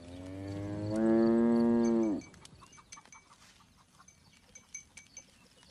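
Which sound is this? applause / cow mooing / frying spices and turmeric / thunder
cow mooing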